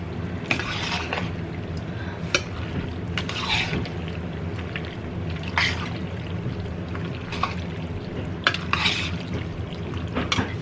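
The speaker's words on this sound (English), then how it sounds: "I'm gonna stir this together a little bit" Ingredients for a pasta bake with olives and mushrooms stirred in a pan, giving a steady scraping, clattering texture with occasional sharper knocks of the utensil against the pan, fairly close and continuous throughout.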